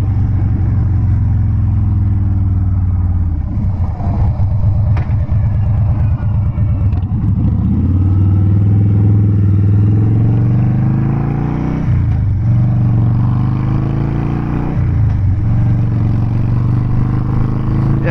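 A Harley-Davidson Dyna Wide Glide with a 103 engine rumbles loud and close while riding, its deep exhaust note shifting in pitch as it revs through gear changes, with wind noise over the top.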